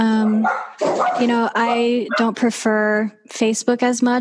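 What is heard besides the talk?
dog barking during podcast recording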